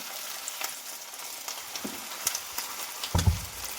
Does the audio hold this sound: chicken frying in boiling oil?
yes